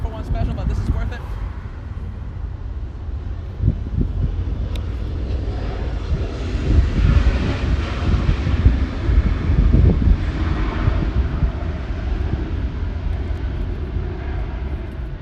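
A Lufthansa airliner on flight 453 takes off, its jet engines building into a loud, steady roar with broadband rumble that swells mid-clip and then holds, heard from nearby with no talk over it.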